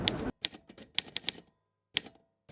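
A typewriter being typed on, with a quick run of sharp separate key strikes and clacks followed by a short pause and a few more strokes, close and fairly quiet.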